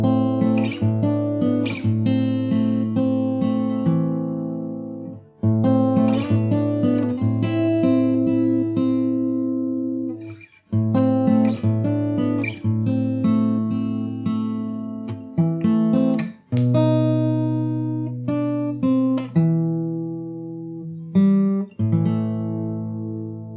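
The Last Of Us 2 main theme played slowly as fingerstyle on guitar: sustained plucked chords and arpeggiated notes ringing over low bass notes, in phrases broken by brief pauses, close and clear with no talking.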